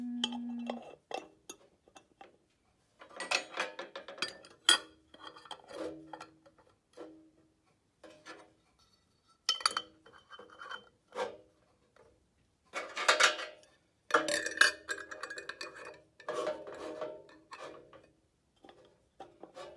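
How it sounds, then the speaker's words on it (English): Metal lids screwed tightly onto glass jars of sea buckthorn, quiet intermittent scraping, ticking and clicking bursts with soft glassy knocks and pauses between, close and faint. "make sure you screw it on tightly, and then you get your glove and screw it on tighter"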